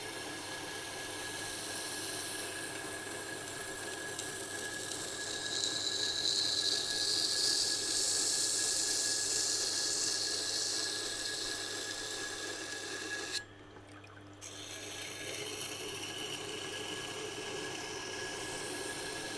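A kitchen knife is ground on a resin-bonded diamond stone with a steady, continuous abrasive rasp, close and even, briefly stopping near the end before the scraping resumes.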